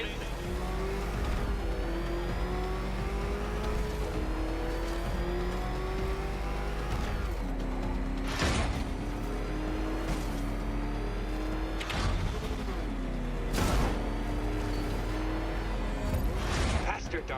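A car engine revs hard in the video game Batman: Arkham Knight. The tone rises and falls as it accelerates, with several sharp loud bursts, and game dialogue plays over it.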